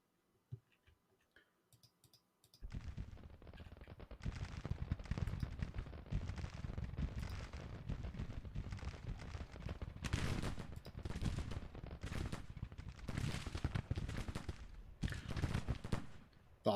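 Artillery counter-battery fire in the Civil War strategy game Grand Tactician: a dense, continuous rattle of booms and crackling volleys starts abruptly after a quiet opening and stays loud to the end, with heavier bursts rising out of it.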